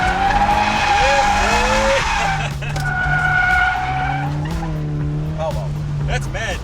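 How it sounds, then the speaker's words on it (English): Stock Toyota 86 drifting at a grassroots drift session, with loud, sustained tire squeal and skidding over a revving engine whose pitch shifts repeatedly across several seconds. "Drifting like a boss."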